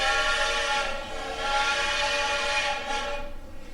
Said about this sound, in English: The train whistle could be heard in the background